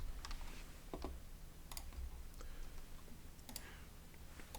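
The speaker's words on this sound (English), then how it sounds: "If I can type." Keys clatter on a computer keyboard while typing in Notepad, a quiet run of irregular clicks and taps at close range with no talking.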